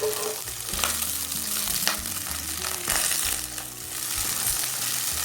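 Chopped tomatoes frying in five spoons of mustard oil, a continuous sizzle with stirring and scraping noises throughout.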